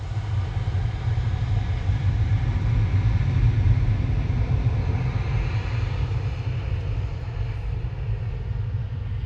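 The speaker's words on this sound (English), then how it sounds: "Ryanair from Alicante touching down in the background, flight 2071." A Ryanair plane from Alicante touching down at Manchester Airport gives a steady, broad, distant jet roar. The roar holds for the whole stretch with a low rumble underneath and no voices.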